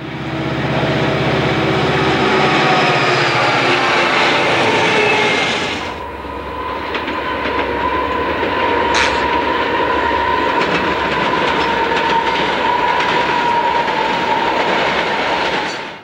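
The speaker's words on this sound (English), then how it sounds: "As the UP train clears, a southbound SP train is seen approaching." A southbound Southern Pacific freight train rolls past up close and loud, wheels clicking rhythmically over rail joints with a steady rumble that continues throughout, with no talking.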